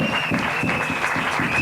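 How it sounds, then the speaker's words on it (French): A church congregation claps for the Lord, a dense, continuous round of applause filling the room, with a faint high tone running beneath. "Si on peut acclamer le Seigneur."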